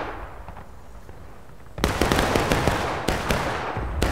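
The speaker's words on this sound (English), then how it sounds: "Keep firing, guys." Musket volleys in the War of Rights video game crack out in a dense, loud burst of overlapping shots after a quieter stretch, followed by another sharp salvo near the end.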